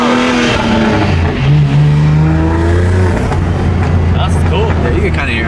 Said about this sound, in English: If you like rev it out, you'll hear the intakes more too.